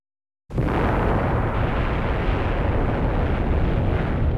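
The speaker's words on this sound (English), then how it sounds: "1952, the world's first hydrogen bomb explosion vaporized the tiny island of Alugalab in the Pacific." The world's first hydrogen bomb explosion, 1952, on a tiny Pacific island: a sudden onset after a moment of silence, then a loud, sustained roaring rumble that holds without fading.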